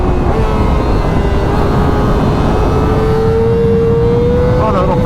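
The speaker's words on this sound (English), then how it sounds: "And I love the sound of that exhaust." A Kawasaki ZX-4RR motorcycle engine drones loud and close, its exhaust pitch climbing steadily as it revs toward redline, with constant wind and road roar throughout.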